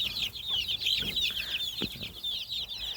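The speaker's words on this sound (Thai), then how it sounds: "พวกนี้จะเป็นไก่บ้านนะครับ" Several young free-range village chickens, about one month old, cluck and chatter continuously, a busy overlapping flock sound, moderately close, with no talking.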